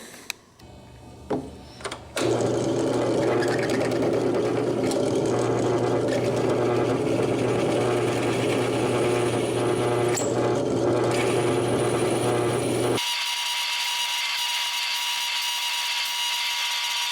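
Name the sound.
diamond core bit drilling stone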